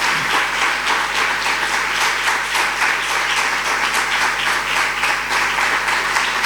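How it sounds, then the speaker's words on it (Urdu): Loud, sustained applause from a church congregation during a Christmas sermon, dense clapping filling the space continuously without a break and with no voices standing out. "زوردار تالیاں خدا کے جلال کے لیے"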